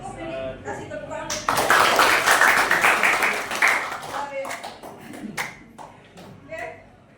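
A high school class claps hands together for a few seconds in a dense, lively burst, with talk before and after.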